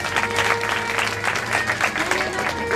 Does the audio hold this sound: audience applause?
yes